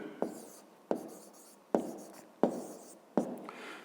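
A pen or pencil writes numbers on paper during a fifth-grade math exercise, five short scratchy strokes spaced about a second apart, close and quiet with no talking.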